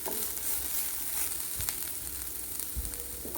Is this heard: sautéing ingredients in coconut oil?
yes